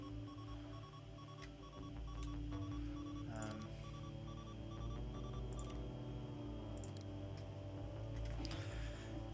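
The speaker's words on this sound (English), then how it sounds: "we don't need to be immersed with a constant droning beep" Steady electronic drone with a repeating alarm-like beep from a spaceship interface in the game Ostranauts, continuous and loud throughout over layered tones, with no voices.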